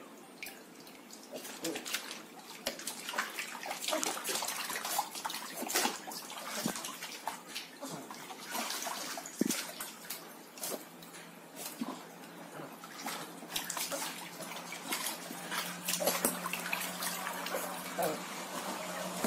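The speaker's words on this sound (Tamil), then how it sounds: "Bathing time." Water splashes and trickles in a home bath, an irregular patter of drips and sloshes up close that runs throughout, with faint background sounds.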